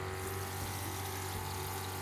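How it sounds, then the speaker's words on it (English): A HOTTAP Nomad portable hot water system's pump kicks on and runs with the hot tap open, giving a steady, close mechanical hum with rushing water underneath, constant throughout and without talk. "the pump will kick on, and the hot tap will turn on"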